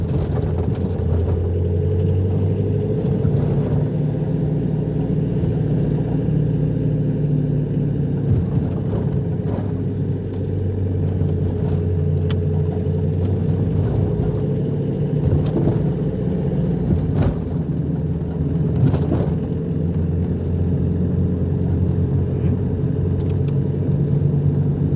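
A Renault 11 TDE engine hums and rumbles steadily from inside the car while driving, climbing through a gear at low revs, with faint clicks and knocks over the drone.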